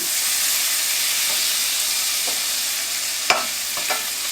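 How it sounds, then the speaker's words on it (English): Minced garlic sizzling in melted butter in a pan over medium heat, a steady close hiss with a couple of sharp clinks of a utensil against the pan. "I've turned this one down to medium, melted my tablespoon of butter, and I'm going to add my 2 teaspoons of garlic"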